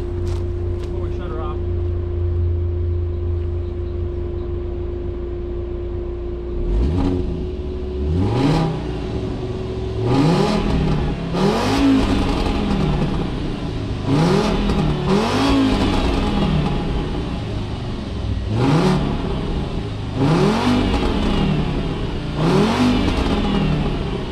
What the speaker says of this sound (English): Get you guys a few quick revs.